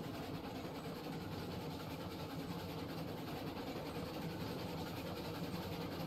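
A construction train rolls along the line in the railway game Railroads Online, a steady low engine rumble and rail noise holding at an even level throughout with no voices.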